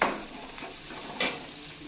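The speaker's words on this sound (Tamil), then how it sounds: "இப்போ இது நல்லா வதங்கிடுச்சு." Ingredients for kuzhambu, including tomato and salt, sauté in a pan with a soft, steady sizzle, broken by a brief scraping stir, faint and close, with no talking.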